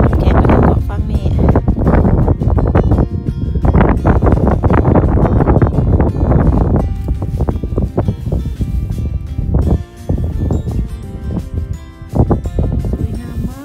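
Strong wind buffets the microphone on a farm with cows and sheep, a loud continuous roar with gusts rising and falling, while a person talks throughout.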